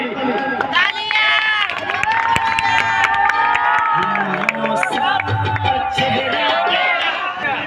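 Lively crowd at a style competition clapping and cheering for the winner, with shouting voices and whoops over the applause, loud and close throughout, with excited crowd voices mixed in.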